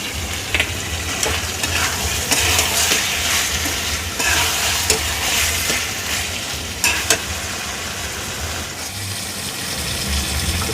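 Paneer vegetable curry sizzling and frying in a pan as garam masala goes in, a steady close hiss with occasional stirring scrapes and no talk.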